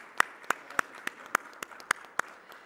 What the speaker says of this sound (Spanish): al doctor Sergio Román Serna Saldívar, para quien pido un aplauso.